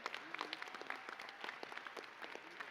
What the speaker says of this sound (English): Let's give one more round of applause to the Division of Science master's students.